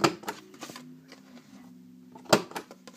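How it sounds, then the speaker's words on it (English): A corner rounder on a paper punch board clicks and punches through paper corners, several sharp close clacks with quieter handling and shuffling between them. "I'm going to take the corner rounder on the punch board and just round all of these points"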